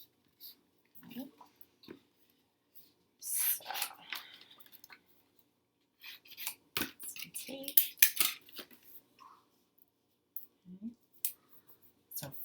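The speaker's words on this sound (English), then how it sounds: "And I'll cut that part off." Scissors cutting paper, several short crisp snips and rustles in scattered bursts, close and fairly quiet, with paper handling sounds and long silent gaps between.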